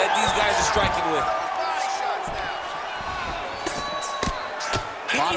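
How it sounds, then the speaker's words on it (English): In the UFC 5 video game, an arena crowd roars and cheers as strikes land, with sharp thuds and smacks cutting through the swelling noise while a commentator's voice talks over it. "you hear the crowd react every time they come together"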